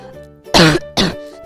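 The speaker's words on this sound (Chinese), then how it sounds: "有点小咳嗽。" Two short, sharp coughs come close together, loud and near, with a faint background tone underneath.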